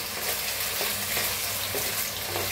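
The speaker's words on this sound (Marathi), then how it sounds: "हलवत छान असे बटाटे भाजून घ्यायचे।" Potatoes sizzle in hot oil in a pan, a dense continuous frying hiss with soft scrapes of stirring close by.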